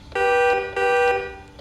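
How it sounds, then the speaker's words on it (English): Horn of a Formula E car in the rFactor 2 racing game, giving two long, steady, reedy electronic blasts of about half a second each, then the start of a third, loud and close with no talk. "Apparently, I have a horn on a fucking Formula E car."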